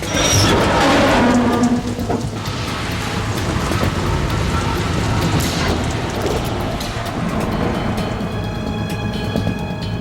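Steady rain in the video game Metal Gear Solid 2 hisses as a dense, even wash of noise for the whole stretch, with a louder burst at the start and faint mechanical rattles underneath.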